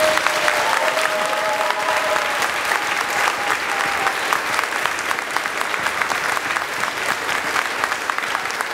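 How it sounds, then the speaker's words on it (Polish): An audience at a dance event claps steadily and loudly throughout, a dense, even wash of applause with a faint sustained tone early on and scattered crowd noise beneath. "Wielkie brawa!"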